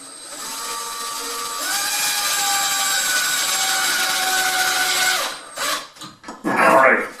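A power drill drives a one-inch screw into a closet shelf, a sustained whining spin close by for several seconds that winds down, followed by short clunks and handling noise.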